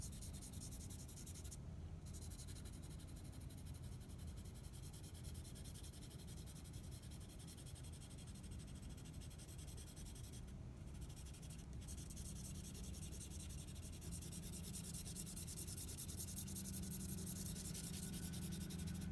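The side of a charcoal pencil shades lightly across drawing paper in a continuous, soft, faint scratchy rub that goes on steadily with no pauses.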